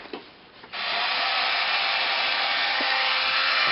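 A child's toy drill gives a steady, bright electric buzz that starts abruptly after a few small clicks and keeps running near the microphone without pause.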